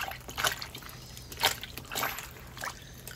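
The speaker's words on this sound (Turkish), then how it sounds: "Hepsini tuzlu suyun içinde kalacak şekilde üzerine bastıralım." Peeled eggplants pressed down by hand into a bowl of salted water, giving a few soft sloshes and trickles in irregular bursts, close and fairly quiet.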